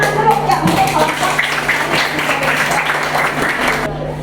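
A school audience claps for a dance group after a trending pacu jalur dance, a moderately loud burst that fades before stopping abruptly, with voices mixed into the clapping.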